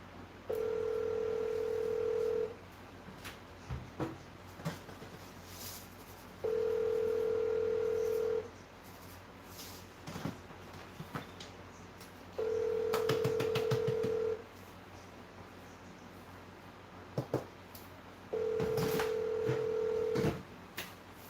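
Telephone line tone following a hung-up call: four steady, loud beeps of about two seconds each, spaced roughly four seconds apart, with faint background clicks and noise between them.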